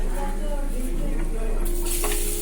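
Chopped garlic stirs and fries in a hot pan in a home kitchen, a steady sizzle with scraping spoon movements, close and fairly loud, while people talk briefly over it.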